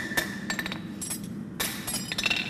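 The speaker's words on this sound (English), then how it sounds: "so I'm just cleaning up this edge with my hammer" Hammer strikes on steel stock while running the edges of a bent piece, a series of bright metallic clinks in short bursts with pauses between, close and fairly loud.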